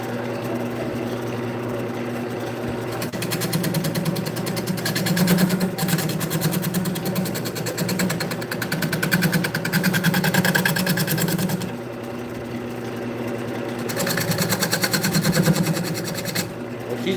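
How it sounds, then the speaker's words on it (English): Bowl gouge cutting a dense, slightly out-of-round wood blank on a spinning lathe, a steady motor drone with a rough shaving rasp that swells and eases as the tool engages, bumps against the tool rest now and then. "See how this responds to the bowl gouge."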